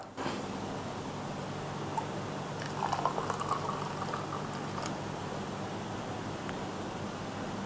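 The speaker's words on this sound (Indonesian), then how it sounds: "Tambahkan air hangat." Warm water pours into turmeric and ginger juice in a steady liquid stream with light bubbling and splashing, fairly close and moderately quiet, continuing throughout.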